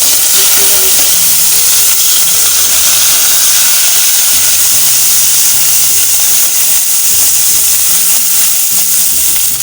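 Sliced onion frying in about two spoons of olive oil in a pan, a loud, dense, steady hiss of sizzling that carries on without a break, with a faint background hum.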